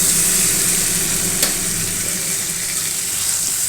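Egg curry in a Bengali kitchen, with its masala nearly cooked down, frying in a pan: a loud, dense, even sizzle that holds steady throughout, marked by one brief sharp tick partway through.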